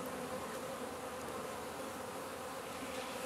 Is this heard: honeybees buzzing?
yes